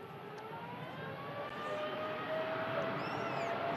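TUI Fly Nordic Boeing 787-9 Dreamliner jet engines spooling up for takeoff, a distant, faint, steadily building whine and roar that swells gradually with rising tonal lines.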